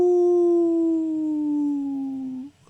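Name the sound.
dog or wolf howling in the distance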